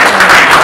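Audience applause at a live talk event, a short loud burst of dense clapping.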